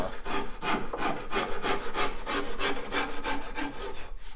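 A hand tool rasps in about a dozen even, rhythmic strokes across a wooden guitar neck being shaped, close up with no talking.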